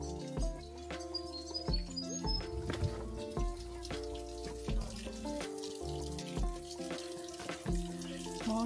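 Water from a falls on a trail in Grampians National Park, Victoria, Australia, flows steadily close by, a continuous rushing wash with birds chirping now and then over it.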